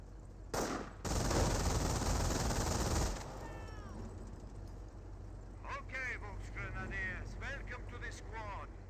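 An MG42 machine gun fires from inside a garrisoned building in the WWII strategy game Company of Heroes: one loud, sustained rattling burst of about two and a half seconds, followed by quieter battle ambience and someone talking.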